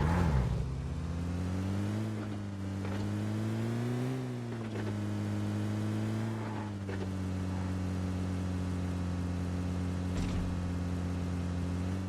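A vehicle in the battle-royale video game PUBG drives steadily with a continuous droning engine hum that rises and dips slightly as it moves, with no talking over it.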